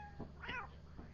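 A cat in the game Lethal Company gives one short, faint meow, with a softer chirp just before and after it.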